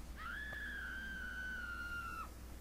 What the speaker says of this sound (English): Did I just hear someone scream for some reason?